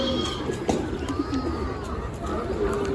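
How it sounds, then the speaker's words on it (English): A crowd of pigeons coos steadily at a trade day market in Canton, Texas, with soft overlapping calls amid background market noise. "a lot more pigeons right there"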